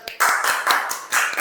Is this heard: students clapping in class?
yes